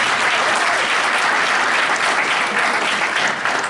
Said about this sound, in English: give yourself and everyone here a round of applause for being here